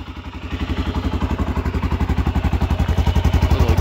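A new 2018 Arctic Cat Alterra 700 XT four-wheeler ATV revs up close and loud, its engine pulsing in a fast, even thumping rhythm that climbs steadily in pitch and volume.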